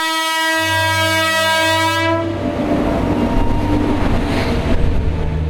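A train sounds a long, loud multi-tone horn, then rumbles past with a broad, noisy roar and clatter, heard close and alone, tied to rail deliveries of water to a station.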